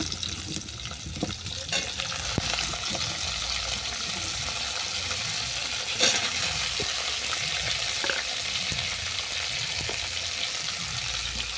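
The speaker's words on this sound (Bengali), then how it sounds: "এরপর তুলে দেবো কেটে রাখা ডাঁটা।" A steady, even sizzle of cut vegetable stems frying with browned potatoes in a hot pan, with faint crackles and occasional soft scrapes from stirring.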